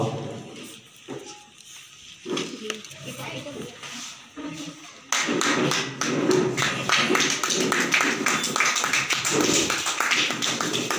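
Audience clapping at a New Year kavi sammelan poetry gathering in Tundla, starting as scattered taps under a speaking voice, then swelling into steady dense applause halfway through while talk continues.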